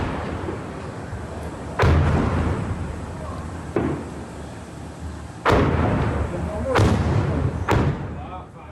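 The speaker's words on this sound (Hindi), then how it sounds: "बाराम और किसुफिम में जोरदार विस्फोट हुआ।" A series of heavy booming blasts from an attack on northern Israel, five loud thuds spaced a second or two apart over a constant noisy rumble, with faint voices underneath.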